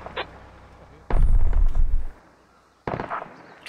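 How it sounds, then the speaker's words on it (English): Gunfire in the Squad video game aimed at an AAV: two loud bursts of rapid shots, the second shorter, with the crackling reports fairly close and faint radio-style chatter in between. "Oh, they're trying to shoot down the AAV."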